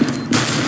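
Rapid automatic gunfire bursts in Counter-Strike: Global Offensive, a dense loud volley that cuts in sharply partway through and continues without a break, with no talk over it.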